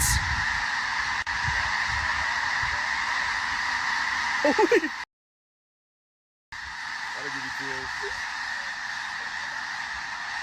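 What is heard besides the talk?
flock of birds honking, likely geese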